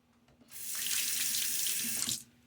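Cold water runs from a bathroom sink tap mid-shave with a Gillette Nacet blade, a steady close hiss that starts after a half-second and cuts off after about two seconds.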